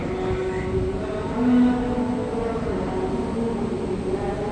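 A KRL Commuter Line electric train rumbles steadily at Duri station, with a continuous low rolling drone and faint rail hum. A brief swell comes partway through, and there is no clear speech.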